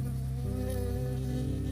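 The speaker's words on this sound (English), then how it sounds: "I got stung by a bee." Bee in the Firewatch video game, a steady close buzz holding for under two seconds.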